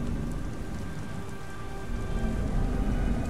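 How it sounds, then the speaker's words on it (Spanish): Steady rain pours down in the video game Beyond Two Souls, a dense, even hiss of drops on surfaces that continues unbroken and fairly loud throughout, with no voices. "Dichosa lluvia. A ver cuándo escampa de una vez."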